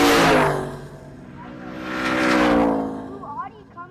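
Race trucks, a Silverado and an F-150, roar past at a motorsports park, engines surging loud then fading, with a second pass rising behind, while a commentator talks over the noise.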